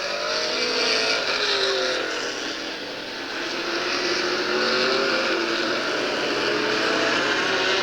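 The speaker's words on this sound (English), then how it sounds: "You can see the cars starting out now, warming their cars, tires, taking 2 or 3 laps for the before the main event starts." Superstock race cars at Redwood Empire Raceway in Ukiah take warm-up laps before the main event, a steady, loud blend of engine drone that swells and eases slightly as cars pass, with no speech.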